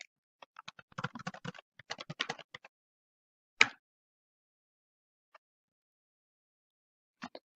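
Username and password being typed on a computer keyboard, quiet clusters of quick key clicks in uneven bursts, then a single sharper keystroke and a few isolated taps after pauses, with no voices.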